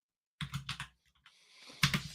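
Quick bursts of computer keyboard typing, about four sharp keystrokes close up, a short pause with faint clicking, then another quick cluster of taps in a quiet room.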